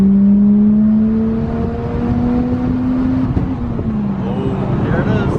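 A Toyota JZX100 Mark II's engine pulls hard through third gear, a steady rising drone heard close from inside the car, easing off near the end, while people talk over it.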